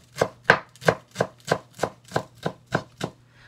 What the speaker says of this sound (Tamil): இப்படி கீரையை வந்து சுருட்டிட்டு முதல்ல பொடி பொடியாக வெட்டிக்கோங்க